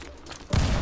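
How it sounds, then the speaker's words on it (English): Gunfire in the Roblox game Blackout: a quiet background gives way halfway through to a sudden, dense burst of shots that keeps rumbling to the end. "Wait for a couple shots in the distance."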